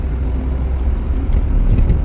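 Car cabin on a main road in Haridwar, a steady loud low engine and tyre rumble with passing traffic noise and faint rattles.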